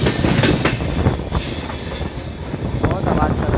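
Train climbing through a ghat section on the Mumbai to Nashik route, with loud continuous rumble and high metallic wheel squeal running throughout, plus a few faint clicks of the wheels.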